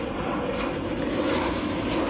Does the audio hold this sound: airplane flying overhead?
yes